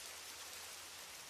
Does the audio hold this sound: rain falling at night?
yes